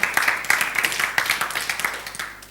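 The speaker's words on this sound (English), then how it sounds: "Let's give Karen a big clap" Audience clapping for a woman called up to the microphone at a live talk or seminar, a fairly steady patter of hands that builds quickly and then gradually fades over a couple of seconds.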